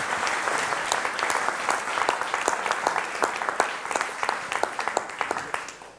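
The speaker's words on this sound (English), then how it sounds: "Applause for Mario again." An indoor audience at a Frankfurt web meetup applauds a speaker named Mario, dense steady clapping with sharp individual claps standing out, fading slightly toward the end.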